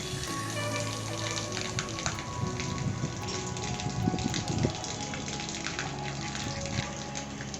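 Water falls from a tank onto a rooftop terrace where ducks are kept, making a steady splashing patter like rain on a hard surface.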